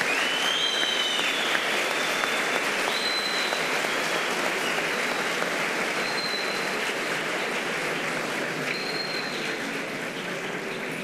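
An audience at a televised town-hall event in Hayrabolu, Turkey applauds steadily, a dense sustained wash of clapping that fills the space without pause and with no voices on top.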